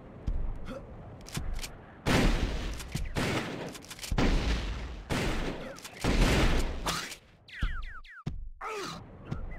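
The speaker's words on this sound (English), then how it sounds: "Shotgun." Shotgun blasts and other weapon fire in an arena shooter match, loud repeated bursts crowding the whole stretch with brief gaps, ending in a few sharp electronic chirps.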